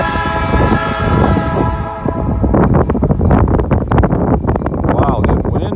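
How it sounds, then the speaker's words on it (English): Strong wind buffets the microphone at a railroad siding in the rain, a steady roaring rush that runs throughout, with a locomotive horn sounding over it during the first half. "Wow, it's windy."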